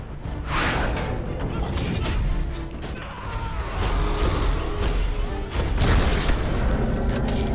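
A grenade explodes in the video game Crysis Remastered, a deep, rumbling boom inside dense, continuous game noise with further crashes and thuds.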